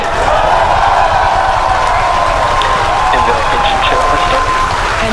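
A crowd cheers and shouts with excitement at a Falcon Heavy rocket launch as the side boosters separate; the dense roar of voices and applause carries steadily and loud throughout.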